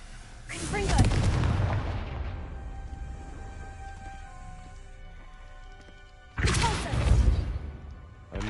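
Confringo blasting spells explode in Hogwarts Legacy, two heavy booming blasts with crackling debris tails, one early and one later, separated by a quieter stretch with faint tonal game ambience; no talk.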